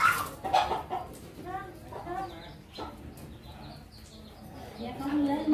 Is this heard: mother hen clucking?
yes